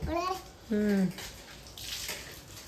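Water sloshing and splashing inside an air cooler as it is cleaned, heard close up with voices talking over it.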